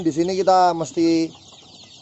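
Free-range village chickens in a coop cluck in a few short, loud, close bursts, then fall quiet as someone speaks briefly in Indonesian over them.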